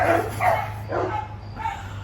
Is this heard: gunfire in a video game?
no